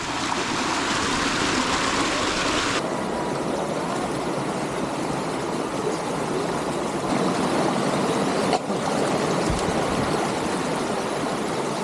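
A shallow stream rushes steadily near a small waterfall in the countryside, a loud, unbroken wash of flowing water close by with no voices.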